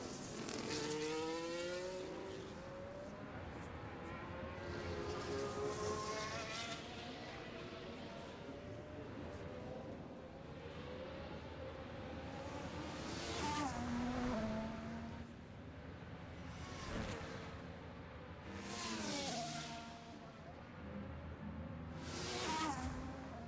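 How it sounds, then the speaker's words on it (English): Formula 1 race cars at the Mexico Grand Prix rumble and rev at moderate pace behind a safety car, several engines whining past in waves, with commentary talking over them. "Now, the longer we are remaining behind the safety car, the better it is for Verhaeren."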